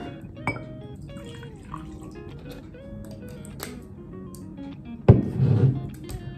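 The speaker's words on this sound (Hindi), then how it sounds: "पहले ठंडा पानी, नॉर्मल घर का पानी है यार, सिर्फ टेस्ट करने के लिए।" Cold household water poured into a glass of Oakton whisky: a few light glass clinks and drips, then a short, louder splashing pour near the end, with no talk.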